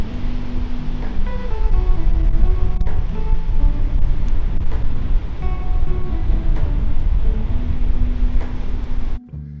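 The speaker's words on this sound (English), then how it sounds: "The wind is outrageous right now. The waves are huge." Strong wind buffets the microphone over huge ocean waves crashing nearby, a loud continuous roar that holds steady for the full stretch and then drops off abruptly at the very end.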